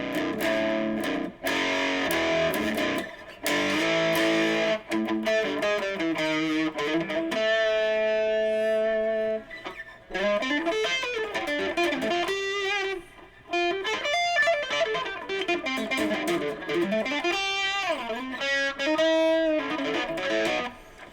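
A distorted Firefly FFJA VI baritone electric guitar plays gritty chords and bending single notes, with brief pauses between phrases, loud and alone.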